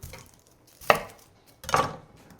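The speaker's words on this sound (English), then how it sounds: "And our onions. I like to cut off the ends right here." A knife chops through an onion on a board, trimming off its ends for chicken stock: two sharp, separate cuts about a second apart, each a crisp thunk followed by a short rustle, close and fairly quiet with no talk.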